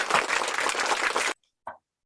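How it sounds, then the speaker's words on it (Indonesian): Audience applause at a student council podcast event at a high school, a dense burst of clapping for about a second and a half that cuts off abruptly, followed by a short voice. "Tepuk tangan dong."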